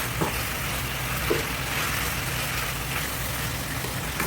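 Tomatoes with plenty of pepper cooking in a pan, a steady close sizzle and fry with a few faint stirring clicks, no talking.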